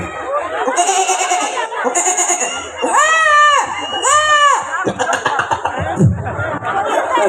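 A comedian on stage at a Rongali Bihu show imitates a goat's bleat with two wavering, drawn-out cries in a row, heard over crowd chatter and laughter.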